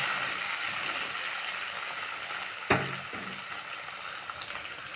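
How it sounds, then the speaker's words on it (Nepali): Onions and tomatoes fry in a pan with a steady, close hiss and sizzle, broken once by a sharp clatter, likely a utensil touching the pan. "प्याज पनि फ्राई हुँदैछ, रातो रातो हुँदैछ।"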